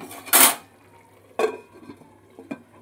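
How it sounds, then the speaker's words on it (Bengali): A sharp metallic clatter as a lid meets a wok, followed by a couple of softer knocks and clinks. "এবার আমি কড়াইটাকে একটু ঢেকে দিচ্ছি।"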